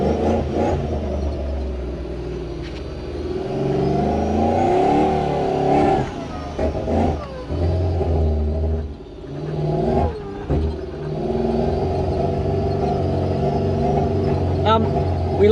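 A supercharged 1UZ V8 engine in a Toyota Hilux revs up and down in rough, uneven surges, loud and close, with people talking over it at times.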